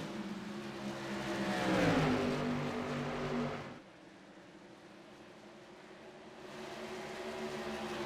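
Race cars at Iowa Speedway roar past on the short track, one engine swelling and pitching down as it passes close by, then a quieter lull before the engine noise builds again from a distance.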